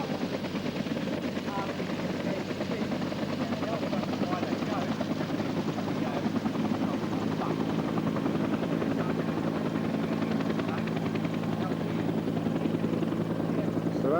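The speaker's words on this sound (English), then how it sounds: "over here we have some Australian Blackhawks" Australian Black Hawk helicopters near a runway in East Timor give a steady, loud rotor and engine roar that never stops, with people talking over it.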